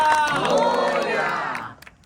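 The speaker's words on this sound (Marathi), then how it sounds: "त्या मराठी माणसासाठी जोरदार टाळ्या." Loud crowd applause and cheering at a temple for the Marathi man who built it, a dense burst of clapping and shouts lasting most of two seconds before cutting off.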